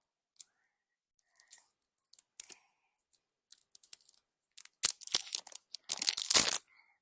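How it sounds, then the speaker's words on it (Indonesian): Scissors snip through plastic packaging during an unboxing, a scattering of faint clicks and snips building to louder, rapid cuts and crinkly slicing near the end, with no talking. "Kita gunting kayak gini."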